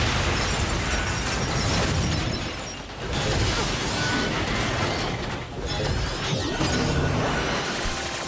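Explosions from the video game NieR:Automata boom and crackle loudly and almost continuously. The rumbling blasts dip briefly twice before surging again.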